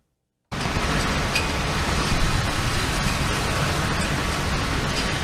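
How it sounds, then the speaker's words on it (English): Post-tropical storm Fiona batters Prince Edward Island with a wind that starts abruptly, then roars as a steady, dense, broadband rush with no breaks, loud and close, with no talking. "that's the sound of now post-tropical storm Fiona as it pounds Prince Edward Island"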